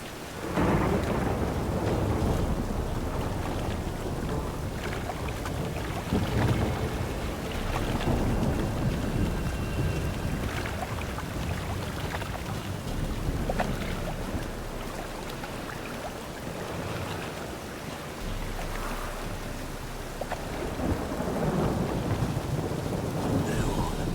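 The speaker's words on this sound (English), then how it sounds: "The storm, damn it." A thunderstorm rages in The Witcher 3, with steady heavy rain and rolling rumbles of thunder filling the whole stretch, dense and continuous, while faint voices occasionally come through underneath.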